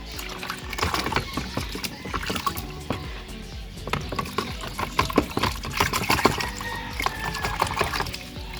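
Water sloshing and splashing as a washing machine lint filter is swished back and forth in a basin to rinse it clean, with irregular close splashes and drips.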